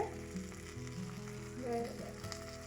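Broccoli and carrots sizzle in a hot frying pan, a close, steady crackle that swells briefly as the vegetables are stirred, with faint background tones.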